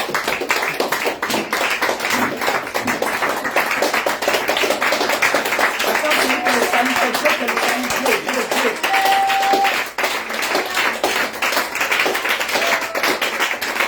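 A congregation at a prayer meeting in Yopougon claps in a fast, steady rhythm to acclaim Jesus, with voices and singing mixed in throughout.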